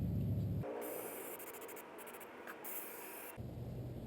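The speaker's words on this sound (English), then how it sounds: "Now basically this is just spray clean." A steady hissing spray from an aerosol can of brake cleaner runs for a few seconds, close to the mic, with brief breaks at the start and end.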